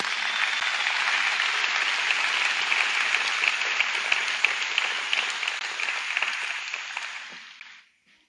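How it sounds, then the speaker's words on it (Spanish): A church congregation bursts into sustained applause during a sermon, a dense steady wash of clapping that holds strong for several seconds, then tapers off and fades out near the end. "Dale un aplauso al Señor."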